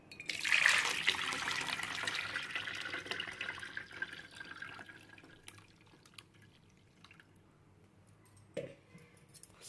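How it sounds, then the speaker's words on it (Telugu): Pani puri water strained through a filter in a home kitchen, a close trickling and dripping that is strongest at the start, then thins to a soft patter with a brief clink near the end. "ఈ పానీపూరి నీళ్ళు ఫిల్టర్ చేస్తున్నాను."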